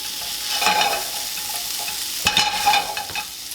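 Stir-fry vegetables sizzling in a hot pan with a touch of soy sauce, a spatula scraping and stirring in two close bursts over a constant frying hiss, with no talking.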